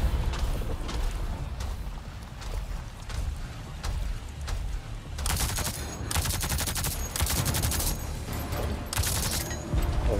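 Gunfire from Avatar: Frontiers of Pandora, a dense rattle of rapid shots over rumbling game ambience that thickens into heavier bursts in the second half, loud and continuous with no pauses.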